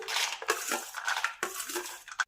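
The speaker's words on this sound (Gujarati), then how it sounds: "હવે તૈયાર થયેલી બુંદીમાં આપણે તળેલા શિંગદાણા ઉમેરીશું" Fried peanuts tipped into a bowl of boondi, giving a busy close rattle and clatter of dry pieces against the bowl in a few quick bursts before stopping abruptly.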